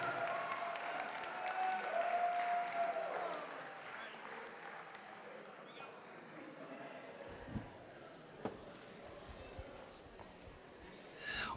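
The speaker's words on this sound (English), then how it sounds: "Let's keep that applause going for our matron of honor" Wedding guests at a reception at Rosewood Farms in Elkton, Maryland applaud, a steady moderate clapping that fades after a few seconds into room murmur with a few isolated knocks.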